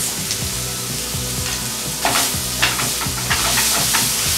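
Garlic and shallots browning and sizzling in a pan as they are stirred, a steady close fry broken by scraping strokes of the spoon.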